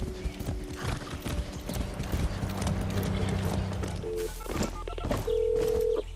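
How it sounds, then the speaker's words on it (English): Horse hooves clip-clopping during riding in the video game Far Cry 6, a run of close rhythmic hoofbeats with a whinny, mixed with game effects and tones, moderately loud. "I haven't ridden a horse since basic training."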